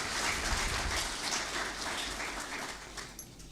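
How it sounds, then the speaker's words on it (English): Audience at a Nigerian Army War College graduation ceremony applauding the Chief of Army Staff, a steady wash of clapping from a large crowd, moderately loud and continuous without talk. "Let us please welcome the Chief of Army Staff with a resounding round of applause."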